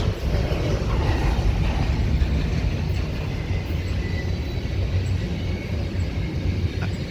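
A steady, loud low rumble of a train rolling past nearby at North East, Pennsylvania, with continuous rail noise and no talking.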